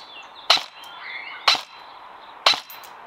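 A suppressed SR-25 AEG airsoft rifle fires three evenly spaced shots, each a short, sharp snap about one second apart, with a faint hum between them.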